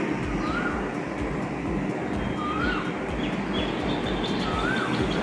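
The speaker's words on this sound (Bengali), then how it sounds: "কোকিল ডাকছে।" An Asian koel calls three times at a steady pace, its rising whistled notes carrying at a middle distance over a constant rumbling background noise on a hot, dry day.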